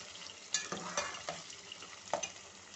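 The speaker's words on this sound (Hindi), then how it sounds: "हमारी भिंडी अच्छे से फ्राई हो रही है" Okra fries in oil for dhaba-style bhindi masala, a soft, quiet sizzle broken by a few light stirring clinks and scrapes.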